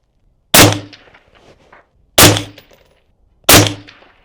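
Accurized AR-15 rifle fired three times outdoors, each shot a loud sharp crack with a brief ringing tail, spaced roughly a second and a half apart.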